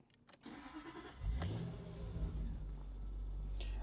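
A Jaguar XK8 engine cranks briefly and catches, then settles into a steady, close, low rumble with no talking.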